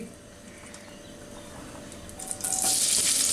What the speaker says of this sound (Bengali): পেঁয়াজটুকুকে ভেজে নিব